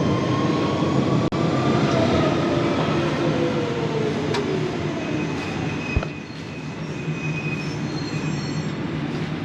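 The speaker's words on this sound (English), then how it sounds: "Departing Tottenham Court Road, and the next stop is Holborn." A London Underground train pulls out of Tottenham Court Road station with a steady, loud rumble of rolling carriages and long wheel squeals rising and falling along the track, with no voices.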